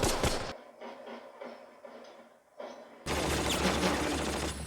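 Gunfire in a Band of Brothers war scene set at Bastogne, loud bursts at the start and a sustained dense roar of shots in the final stretch, with quieter scattered crackle between.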